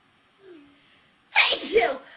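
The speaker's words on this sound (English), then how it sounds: "I'm ready to sneeze." A single sharp sneeze bursts out after a soft breathy intake, close and loud, with a short vocal sound just before it.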